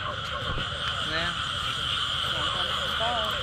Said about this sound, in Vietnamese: Ếch không thấy mà bắt được 5-6 con ếch biển